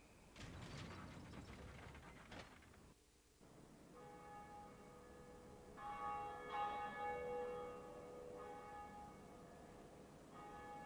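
In Dark Souls, a church bell rings inside a belfry after mechanical clanks and ratcheting gears. Deep ringing tones then swell and linger, with a second strike renewing the resonance.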